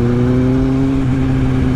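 A 2011 Kawasaki Z750 motorcycle fitted with a Delkevic exhaust, its engine running loud and close with a steady, throaty drone and slight rising rev, no talk over it.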